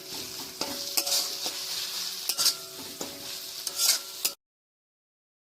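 A spoon stirs and mixes pieces of bhola fish into a sizzling pointed gourd and mustard curry in a pan, with steady scraping and frying crackle and periodic metallic knocks, then an abrupt stop into silence.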